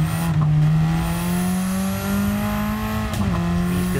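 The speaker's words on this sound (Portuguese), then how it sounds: "Deu uma escorregada pro carro agora." A race car in the video game Gran Turismo 7 holds a loud, steady engine drone that shifts pitch slightly as it slides through a corner, with a short tire scrub near the end.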